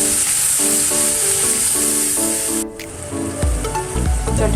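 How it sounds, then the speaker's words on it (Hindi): Tomatoes fry in a pan for pulao biryani, a steady bright sizzle with stirring, then a lower rumbling hiss as the mixture is moved, close and loud throughout. "मिक्स करेंगे और 2 मिनट फ्राई करेंगे ताकि टमाटर सॉफ्ट हो जाए।"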